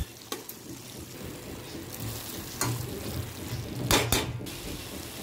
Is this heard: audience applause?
no